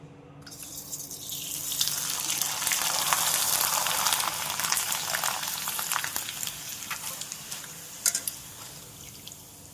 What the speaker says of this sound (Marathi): आता तळून बघू